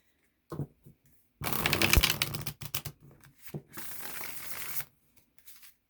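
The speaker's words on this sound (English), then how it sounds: "Let's pull some cards, shall we?" Tarot cards from a Rider-Waite-Smith deck being pulled and handled, giving close, crisp papery flicks and riffling rustles in two main bursts with short pauses between, no talking.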